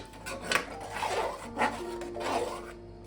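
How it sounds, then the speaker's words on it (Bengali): Milk thickened with powdered milk is stirred in a pan, giving soft repeated scraping and rubbing strokes in an uneven rhythm, close and moderately loud with no speech. "দিয়ে আমি এটাকে ভালো করে নাড়িয়ে নেব"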